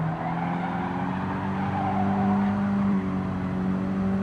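Race cars lapping Brands Hatch Indy Circuit during a Mini Cup round: a continuous droning engine note with a rising whine, steady and fairly loud, heard with no speech.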